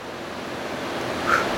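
Cold tap water runs over freshly steamed Weisswurst, white Bavarian sausages, to cool them down. A steady, soft hissing stream sounds close by, with a brief brighter splash near the end.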